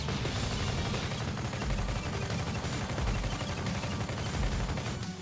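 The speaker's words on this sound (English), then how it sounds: "it's just a hold down the button and shoot minigun" Minigun in the shooter BPM: Bullets Per Minute firing nonstop, a loud dense stream of rapid gunfire with heavy low rumble that holds steady for the whole stretch, no voices over it.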